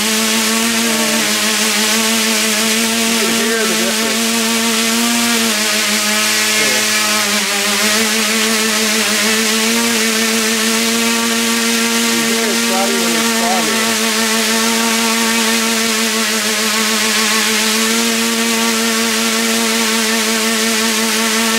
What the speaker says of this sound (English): you can hear right there that the motor itself is a lot slower to react